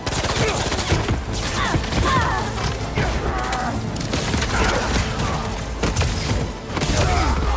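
Gunfire in the video game Marvel's Spider-Man 2: dense, continuous bursts of shots and impacts over a busy action mix, with no pauses.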